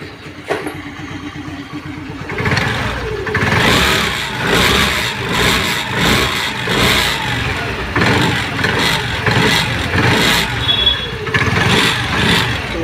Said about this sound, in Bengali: আমার গাড়ি স্টার্ট হয়ে গেছে দেখুন একবার স্টার্ট হয়ে গেছে